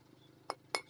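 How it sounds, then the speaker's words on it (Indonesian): A hardened motorcycle engine valve seal is struck twice, giving two sharp, brittle clicks about a quarter second apart against a quiet background. "Ini dipukul gini pecah-pecah."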